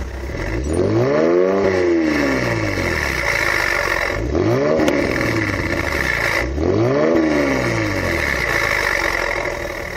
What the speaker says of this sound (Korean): 열려 있는 상태라서 시동을 걸었을 때 좀 웅장한 소리가 살짝 납니다